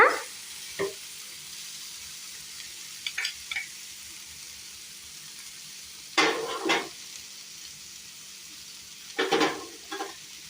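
Paneer masala frying in a pan, a low, faint sizzle broken by a few scattered scraping stirs of a spoon, without talk.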